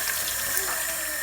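Water pours steadily into a brownie mix, a close, continuous splashing rush that lasts the whole moment.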